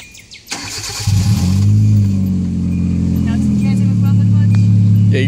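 A car with a custom exhaust cranks and catches, then settles into a loud, deep, steady idle that rumbles on close by after a brief burst of noise.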